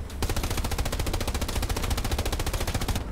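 Sustained rapid machine gun fire in the WWII shooter Hell Let Loose, loud, steady bursts at a fast even rhythm filling the whole stretch, heard from around a Panzer IV tank.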